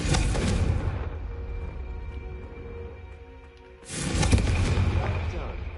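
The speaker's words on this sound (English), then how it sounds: "I think you'll find that a Confringo cast travels a bit farther than that of a spell like Incendio." Fiery Confringo spell blasts in Hogwarts Legacy, two loud broadband bursts, one opening the clip and another near the end, with a quieter hum of game ambience between them.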